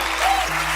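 Audience of about 2,200 applauding at a graduation address, a dense, steady clapping wash that fills the moment without voices over it.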